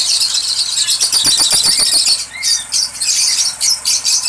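Fischer's lovebirds kept in a breeding colony squeal loudly and continuously, their shrill chattering calls overlapping in rapid bursts close by.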